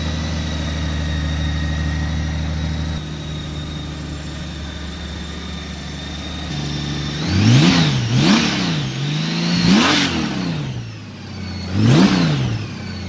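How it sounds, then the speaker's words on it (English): A Honda Goldwing F6B motorcycle engine with stock exhaust idles with a low, steady hum, then is revved several times in short surges. "Let's go ahead and start up the Goldwing."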